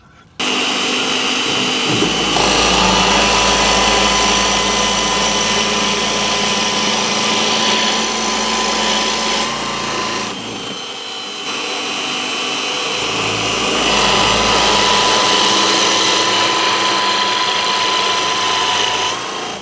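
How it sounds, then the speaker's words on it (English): A loud power drill runs almost nonstop boring holes in wood for a guitar body, with a steady high motor whine, dipping briefly midway before revving back up. "gonna drill some holes"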